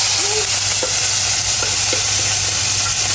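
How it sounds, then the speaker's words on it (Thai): Mackerel pounded with chili stir-fries in hot oil, a steady loud sizzle with occasional stirring scrapes, close up and without talk. "ผัดให้หอม"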